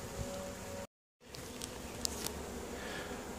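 Honeybees buzzing around hive frames during a hive split, a steady close drone of many insects with a brief gap of silence, no talking.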